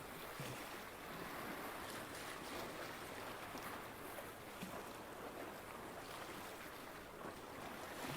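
Ocean waves wash steadily behind an outdoor breathing session, a continuous broadband surf with wind noise on the microphone and no talk.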